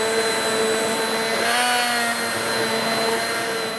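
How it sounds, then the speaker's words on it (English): A blender purees cooked, tender butternut squash into bisque, giving a steady, loud, high-pitched motor whine that holds constant throughout, with no talking. "I'm going to go ahead and puree this up."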